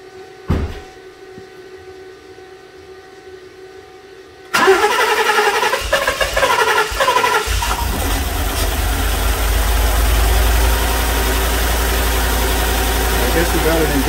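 A 2015 Ford F150 that cranks but won't start: a click, then the engine cranking and catching into a steady running rumble that carries on, close and loud, with someone talking over it.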